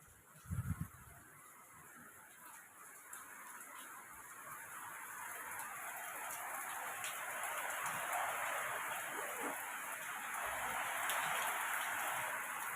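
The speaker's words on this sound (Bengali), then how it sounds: "বৃষ্টি পড়ছে দেখো" Rain falls in a steady hiss that swells gradually and stays constant, with a brief honk-like burst near the start and a faint high-pitched whine throughout.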